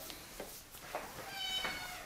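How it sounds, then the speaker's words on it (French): A house cat meows close by, a few short plaintive calls in quick succession at moderate volume over a faint room background, with no talk. "Ah, le chat est pas d'accord."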